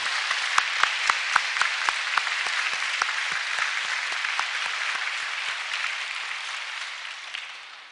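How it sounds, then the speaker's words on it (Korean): A church congregation at a Wednesday service applauds to welcome the pastor's wife, with steady, dense clapping and a few sharp close claps at the start, fading out near the end. "이양진 사모님, 잠깐 일어나시면 저희가 박수로 환영하겠습니다."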